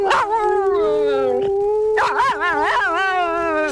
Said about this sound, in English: famous for teaching the dog to howl along with him